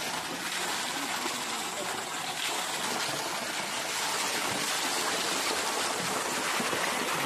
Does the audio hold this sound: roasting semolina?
no